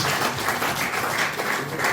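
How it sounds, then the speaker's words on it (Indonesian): Audience applause at a Full Gospel Business Men's Fellowship gathering, a short steady patter of clapping at moderate level with no talk over it. "Sekali lagi kita beri tepuk tangan"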